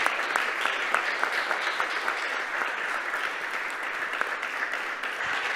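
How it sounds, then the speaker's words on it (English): A room full of audience members gives a round of applause for the speakers at a student talk event, producing dense, sustained clapping at a steady level for several seconds with no speech over it. "Then I guess we can make a round of applause for our speakers."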